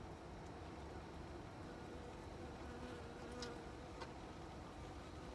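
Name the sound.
bee buzzing around cooking outdoors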